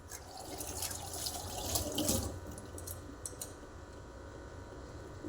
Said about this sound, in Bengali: দাঁড়াও এগুলো ধুয়ে নিয়ে যাবো